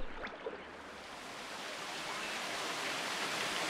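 The Pha Kluai Mai waterfall in Khao Yai, set over rhyolite volcanic rock, pours with a steady broadband rush of falling water and no other sounds.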